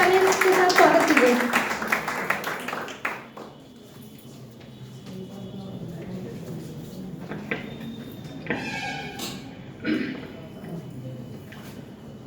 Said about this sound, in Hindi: जोरदार तालियों के साथ आप जोरदार तालियों के साथ स्वागत कीजिए